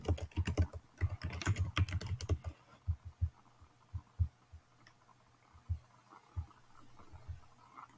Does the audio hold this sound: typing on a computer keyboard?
yes